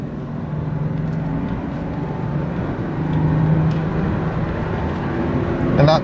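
A Jaguar XJ-S V12 HE with a three-speed automatic pulls away on a slippery surface and accelerates toward 60 mph, its engine a smooth, steady drone that swells slightly midway and again near the end, with no talking.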